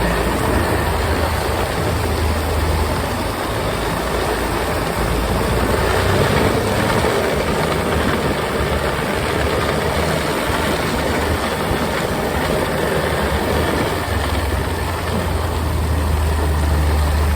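Snowmobile engine running steadily while towing a small homemade wooden drag that smooths and flattens a snowy trail; a continuous, loud, rumbling drone with no talk over it.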